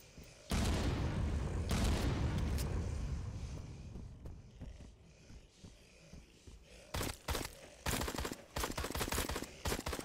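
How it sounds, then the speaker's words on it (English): Gunfire and explosions go off as red barrels are shot in a zombie horror video game. A loud burst of booming blasts opens the clip, fades, and then sharp rapid shots follow in clusters. "Oh, can I shoot these red barrels?"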